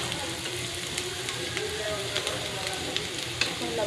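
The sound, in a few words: bitter gourd frying with chili, onion and oil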